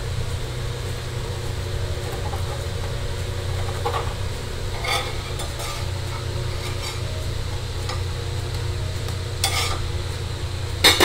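Pressed dough cooks in a pan over a medium flame, a low steady hiss with a continuous hum and a few faint scraping taps, no talk.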